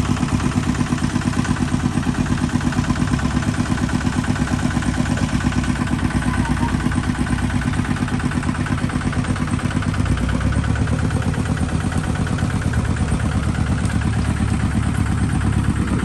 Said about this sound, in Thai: ติดเครื่องแล้วครับ